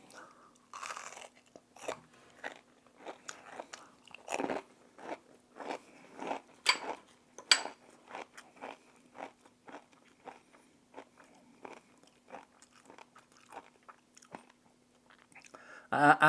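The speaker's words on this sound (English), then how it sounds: "I hope that crunch is not enough to drive you crazy." Repeated crisp crunches from biting and chewing crusty hot water cornbread made with Hickory King corn, close up, in an irregular rhythm with quiet gaps between bites.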